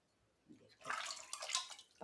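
Hands are washed under a running kitchen tap, water splashing and gushing in uneven bursts, close and fairly clear with no talk.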